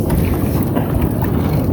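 Fishing boat with nets close by at sea: steady loud engine rumble mixed with wind buffeting the microphone, continuous throughout.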